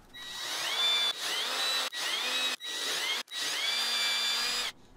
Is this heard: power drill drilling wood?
yes